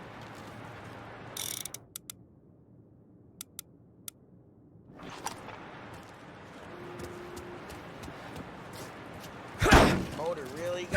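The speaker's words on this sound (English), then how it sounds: "Now let's get to these cars. Take your bat and start swinging." Baseball bat hits on cars in the video game Mafia: Definitive Edition, with a few sharp isolated knocks and then a loud crashing smash near the end over low game ambience.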